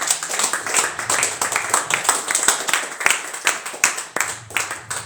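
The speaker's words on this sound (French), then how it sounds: "Acclame très fort Jésus" A church congregation claps and cheers in acclaim of Jesus, a dense, continuous wash of many hands with sharp irregular claps rising through it and voices mixed into the crowd noise.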